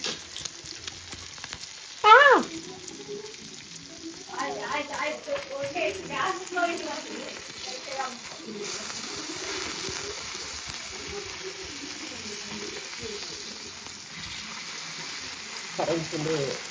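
Mackerel fries on a hot tawa, a steady close sizzle that runs beneath a person talking and then carries on largely alone toward the end.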